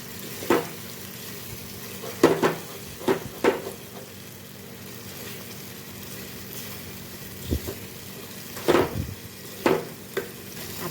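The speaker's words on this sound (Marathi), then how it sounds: "आता ग्रेव्ही तेल सोडायला लागलेलं आहे आपण हलवत राहायचं सारखं" Methi garlic gravy frying in a pan, with a soft steady sizzle broken by scattered scraping and clinking stirs of a spoon against the pan, close and at moderate loudness.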